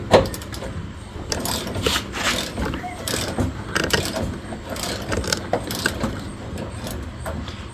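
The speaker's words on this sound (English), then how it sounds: "my husband is going to tighten the subframe back up" Ratchet tightening subframe bolts on a 2001 Ford Taurus during a strut replacement, heard as repeated clicking pawl strokes in uneven bursts with metallic clanks, close by and moderately loud, with occasional talk underneath.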